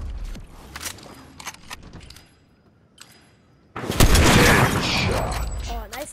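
Sniper rifle shots in a Fortnite match: sharp, close cracks in the first half, then a loud, dense burst of gunfire and explosive noise filling the later seconds, with excited voices reacting.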